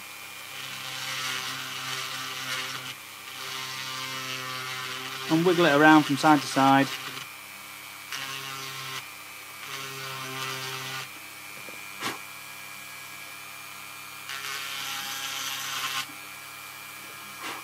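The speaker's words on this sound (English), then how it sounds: "So same again, just take the drill" A drill widening a magnet hole in an Eldar Revenant Titan model kit gives short, repeated whirring bursts separated by pauses, with someone talking between and over them.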